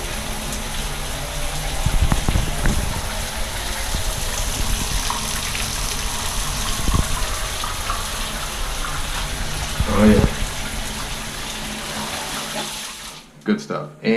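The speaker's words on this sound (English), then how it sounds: "you can use the mini shower to get all in those hard to reach places" Handheld mini shower spraying water in a spa wet room, a steady hiss of running water throughout with brief voices talking over it near the start and middle, cutting off abruptly at the end.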